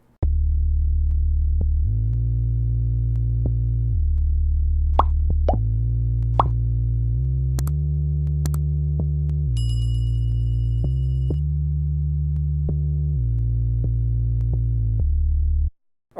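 Synth bass line from an Akai MPC sample-flip beat, deep sustained notes stepping between pitches in a steady pattern, loud and continuous with light percussive clicks and a brief bell-like tone over it.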